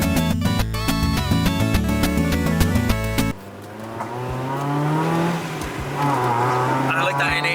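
The naturally aspirated engine of a Mitsubishi Colt Ralliart Version-R hot hatch revs and climbs in pitch through the second half, steady and fairly close, after a stretch of music.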